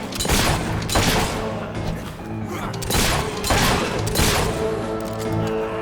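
Gunfire and booms ring out in a Fable 3 battle, with repeated heavy blasts and crashes rolling over a dense backdrop of game music and noise, loud throughout.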